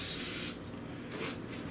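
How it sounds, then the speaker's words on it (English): Cooking spray hisses from a can onto a preheated Dash waffle iron in a single close, loud half-second burst, followed by a quiet room. "just gonna get a little spray."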